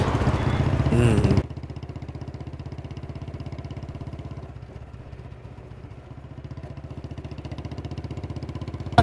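A motorcycle engine runs steadily at a low idle-like drone while gears are shifted, its clattering tone fairly close; people talk over it at the start.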